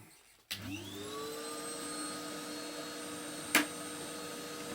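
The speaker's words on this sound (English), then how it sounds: "we're going to put the hoover on now" A hoover switches on abruptly during the sweeping of an open fire chimney and settles into a steady, loud whining drone, with a brief knock partway through.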